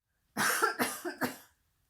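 A child coughs hard in three quick, harsh bursts close to the listener, each one raspy and forceful, followed by silence.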